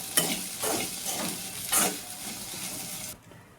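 Okra (ladies finger) frying in a pan is stirred with a few rhythmic, close scraping strokes over a soft sizzle that cuts off abruptly near the end, with no talk.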